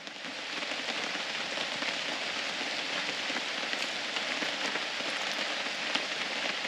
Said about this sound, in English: it's still pouring down with rain here